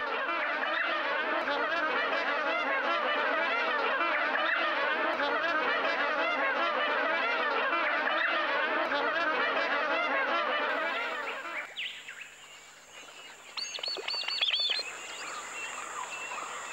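Tens of thousands of wetland birds honk in a dense, loud, continuous chorus at a Kakadu billabong in northern Australia during the wet season, then the din drops away to scattered calls.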